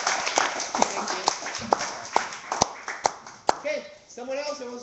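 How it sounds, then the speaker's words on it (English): An audience at a community sharing evening claps for a speaker in sparse, evenly spaced claps that sound fairly close. A voice starts speaking as the clapping fades. "Give this guy a round of applause."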